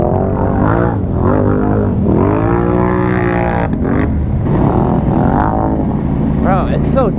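A Can-Am 850 side-by-side revs hard through mud, its engine droning loud and close with rising and falling pitch sweeps as it wheels around, and a voice talking over it near the end.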